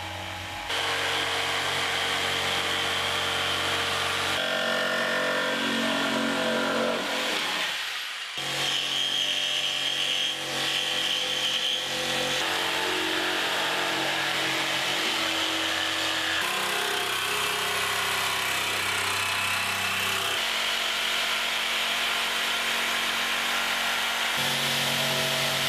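A Bosch GST 140 jigsaw, fitted with a range of blades, cuts through a series of materials in close, loud, continuous bursts. The buzzing pitch changes between cuts, and there is a brief break near the middle.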